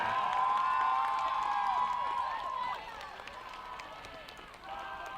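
A crowd at a high school football game cheers for the Berlin High School Redcoat Marching Band, a loud, sustained roar of voices and shouts that gradually fades somewhat, then swells slightly again.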